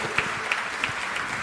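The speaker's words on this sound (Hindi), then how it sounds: "जोरदार तालियां सर के लिए." Audience applause for a guest at a public event in Pune, a steady dense wash of many hands clapping, moderately loud and continuous across the short stretch, with a few brighter single claps standing out.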